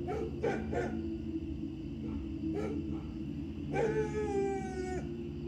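A dog barks at a guarded warehouse: a few short barks near the start, another single bark, then a longer drawn-out howl-like cry, all over a low, steady background drone.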